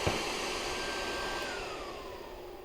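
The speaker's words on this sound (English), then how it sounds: "now you know what you're getting with the Nomad 2 compressor" Nomad 2 air compressor for filling an air rifle to 250 bar, running with a steady loud whirring hiss and a faint tone that slowly falls in pitch.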